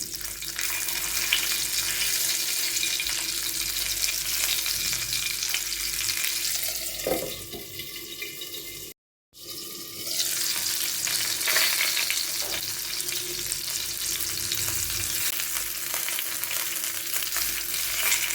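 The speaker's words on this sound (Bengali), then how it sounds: "আমি কিন্তু খুব সাবধানে অল্প অল্প আঁচে কিন্তু এটা ভেজে নিচ্ছি" Chicken tikka fries gently on low heat in a pan, with a continuous soft sizzle and occasional stirring scrapes, briefly interrupted by a short gap, and no talk.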